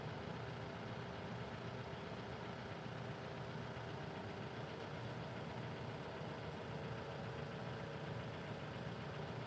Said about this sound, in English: Sounds like a dang lifter tick in this thing.